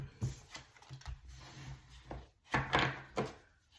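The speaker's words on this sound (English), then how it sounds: "Let's just get a good shuffle." Tarot cards being shuffled by hand, a series of irregular soft riffling and tapping bursts with brief pauses between them, close and quiet with no speech.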